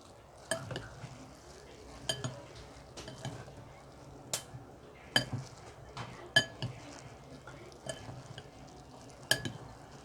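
Chicken sisig with siling labuyo chili being stirred in a pan, with a gentle sizzle underneath and sharp utensil clinks against the metal striking at irregular intervals, close and moderately quiet.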